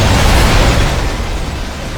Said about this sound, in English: Do not look at explosions.